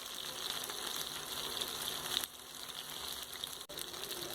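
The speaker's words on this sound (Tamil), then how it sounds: "இப்போ பார்த்தீங்க அப்படின்னா நல்லா வந்துட்டு ஃபிஷ் வந்து நல்லா ஃப்ரை ஆகிடுச்சு" Masala-coated fish fries in a pan with a steady, even sizzle and crackle at close range, holding continuously without pause aside from a brief dip partway through.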